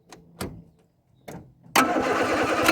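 A Ford Fiesta Mk1 engine, choke pulled out, turns over in a few short cranking bursts and then fires, settling into a loud, steady running roar close by.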